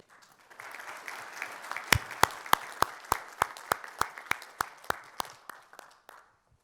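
A conference audience applauds to welcome a speaker: soft, spread-out clapping builds, with a few loud, close claps standing out at a steady rhythm, then fades out after about six seconds.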